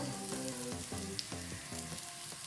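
Thalipeeth frying in oil on a pan, a steady close sizzle with soft repeated scraping or stirring strokes at a regular rhythm, no voices.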